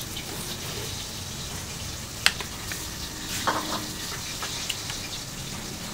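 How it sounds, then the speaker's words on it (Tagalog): Crocodile meat frying in a pan gives a steady, dense sizzle with scattered sharp pops and crackles, close and moderately loud, with no talking. "Prito ako ng crocodile."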